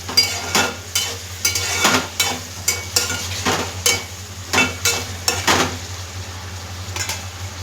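White brinjal pieces frying in hot oil for a curry, with a steady sizzle under a low hum and repeated spatula scrapes and stirs against the pan at an irregular rhythm.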